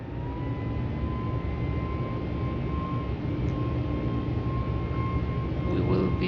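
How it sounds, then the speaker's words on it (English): Airliner engines build thrust for takeoff in Microsoft Flight Simulator 2020, a steady, loud jet roar with a thin whine that swells slightly over several seconds as someone talks. "Engine increase thrust, and then just release the parking brake and torque thrust."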